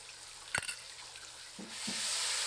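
Ginger and cumin paste with chili powder frying in hot oil, a steady close sizzle with a sharp clatter early on and a couple of short spoon knocks against the pan, no voices.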